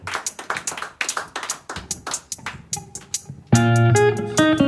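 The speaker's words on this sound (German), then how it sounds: "Machen einen Riesenapplaus für den Julian an der Gitarre." Concert crowd clapping in a loose, uneven burst for a guitarist at a small Swiss music-day showcase, giving way near the end to a sustained band chord.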